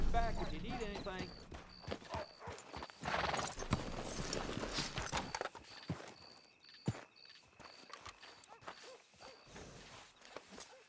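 Horse hooves clip-clop in Red Dead Redemption 2, slow uneven steps with a snort or whinny, under game voices and ambient sound.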